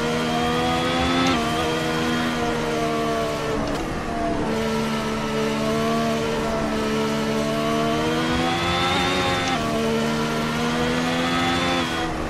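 Ferrari SF70H Formula One car in Assetto Corsa at Suzuka, its engine screaming loud and steady at high revs, pitch rising and dropping through gear shifts and corners for the whole stretch.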